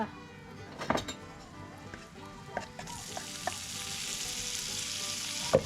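Bacon stir-fries in a pan while cooking at a forest house, with clinks and scrapes of stirring early on, then a steady close sizzle that grows louder toward the end; no talking.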